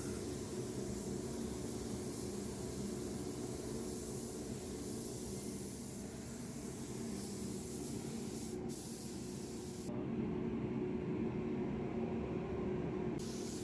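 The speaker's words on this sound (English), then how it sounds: "Spraying the neck with clear coat." A continuous close hiss of a spray gun applying clear coat to a bass guitar neck runs steadily throughout, briefly easing and resuming, with no voices.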